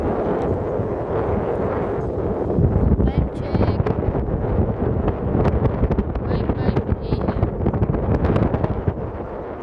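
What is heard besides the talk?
strong wind at seaside camp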